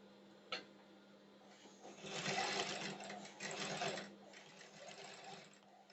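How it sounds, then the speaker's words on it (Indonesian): A sewing machine basting a shirt collar onto the bodice, a quiet close-up whirring in two or three short bursts of rapid needle clatter with a steady motor hum underneath and a click at the start. "Ini kita jahit bantu dulu."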